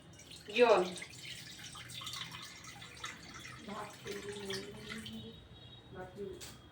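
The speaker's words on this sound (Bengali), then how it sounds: "এবারে আমি জল দিয়ে দিচ্ছি।" Water is poured into a pan on a gas stove, giving a brief splashing gush near the start followed by faint trickles and drips. A voice speaks quietly over the rest.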